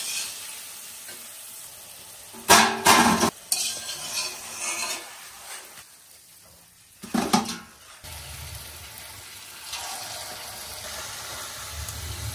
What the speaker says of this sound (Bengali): বড়াগুলো ভাজা হয়ে গেছে, এবার ছেঁকে নেব।